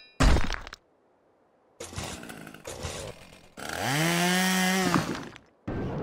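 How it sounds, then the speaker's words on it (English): A power drill in The Henry Stickmin Collection video game runs with a loud, whining motor that rises in pitch for about a second and a half. Sharp thuds and crashes come before it, and another burst follows after a short gap. "Next up, let's try a drill."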